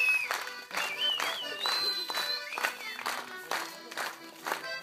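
Guests at a wedding applaud and cheer in rhythmic bursts over ongoing music, the clapping fairly steady and crowd-like at moderate volume.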